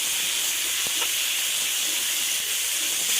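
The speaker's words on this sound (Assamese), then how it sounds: "কাটি ৰখা বিলাহীখিনিও দিলোঁ, ভালদৰে মই ভাজি ল'ম।" Chopped tomatoes fry in a pan for a lemon fish curry, producing a loud, continuous, close hissing sizzle with no voices.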